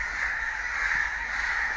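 Crows in a flood area caw in a dense, continuous chorus, a harsh, raspy noise that carries steadily at moderate distance with no pauses.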